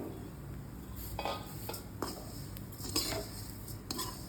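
A spoon stirs a mukhvas mixture of dill seeds and melon seeds in a pan, producing soft gritty scraping with scattered metallic taps and knocks over a low background hiss, no voices present.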